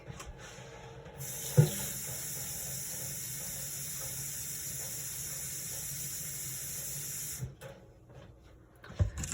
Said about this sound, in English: Because I'm in my kitchen, I'm going to use my sink.